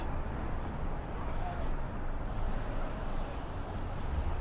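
Constant low rumble of street traffic on 86th Street in Brooklyn at night, cars, trucks and scooters blending into a steady wash of road noise with no distinct passes standing out.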